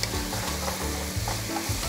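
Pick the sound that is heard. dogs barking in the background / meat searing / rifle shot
meat searing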